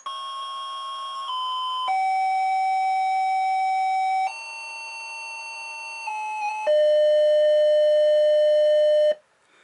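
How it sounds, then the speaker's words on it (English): Potion-making sound from the King's Quest III / Black Cauldron computer game: a loud, clean electronic square-wave tone stepping through sustained pitches, holding each for a second or more before jumping to the next, with no talk. "that's the sound you hear when you're playing King's Quest 3 and you're downstairs in the basement making potions"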